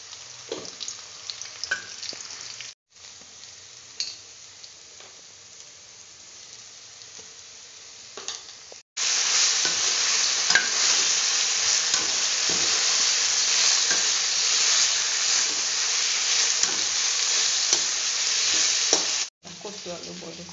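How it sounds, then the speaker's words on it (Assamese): Elephant apple (outenga) fries and is stirred in a pan with hot oil and cumin seeds, giving a steady crackling sizzle with scraping strokes. It is quieter at first, then louder and fuller after a short break. "এতিয়া মানে ঔটেঙাখিনি ভাজি ল'ম।"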